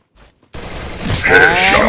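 A short burst of rapid gunfire from the video game Garena Free Fire in a 1v1 match, loud and close, with a brief quiet click just before the shots.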